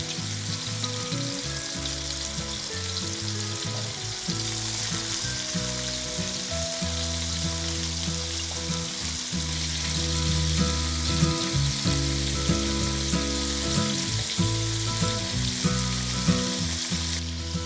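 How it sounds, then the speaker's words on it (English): Gluten-free lamb meatballs fry in a hot pan on the stovetop, a steady close sizzle and crackle that runs throughout and grows a little louder toward the end, with no talking. "Let's now take those to the stovetop and we'll give them a good fry."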